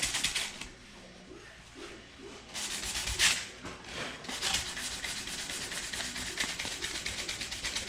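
Sandpaper of 220 grit rubs over a guitar's finish, close scratchy strokes in an irregular back-and-forth rhythm, louder after a quieter opening.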